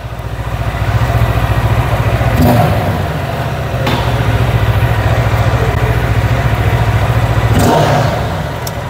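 A QJ SRT 700 motorcycle engine running loud and close with a steady throbbing beat, swelling through several revs over its idle for the whole stretch.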